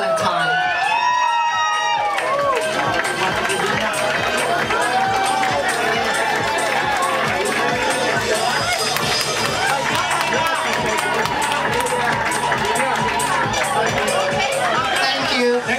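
Pageant crowd cheering and shouting continuously and loudly, a dense, steady wall of voices, whoops and hubbub with rhythmic clapping or stomping running through it.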